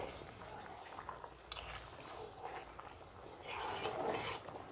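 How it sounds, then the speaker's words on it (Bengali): Taro and fish curry starting to boil in a pot, a steady low bubbling and sizzling hiss with occasional utensil clinks, close and fairly quiet, rising slightly toward the end. "এই যে তরকারি ফুটতে শুরু করেছে।"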